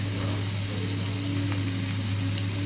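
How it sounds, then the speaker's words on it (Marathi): Onions fry in a pan with a steady, even sizzle throughout, close and constant with faint clicks of stirring, no voices. "आता कांदा व्यवस्थित परतून झालेला आहे"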